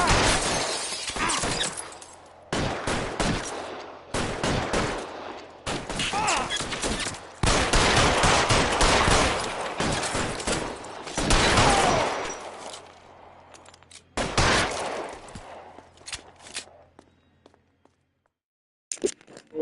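Bursts of gunfire in a shootout from L.A. Noire, rapid volleys and machine-gun rattles in loud clusters separated by short pauses, fading toward the end.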